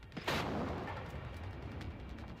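Enemy robots open fire in the video game Generation Zero, a single sharp gunshot-like crack followed by a rumbling, echoing tail at moderate distance, with no voices.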